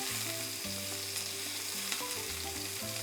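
Boneless pork ribeye chop searing in butter in a hot pan, giving a steady dense sizzle that is close and continuous, with faint tonal hum underneath and no voices.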